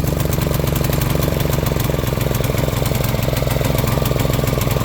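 A Craftsman pressure washer runs steadily outdoors, its engine drone loud, even and continuous throughout with no pauses.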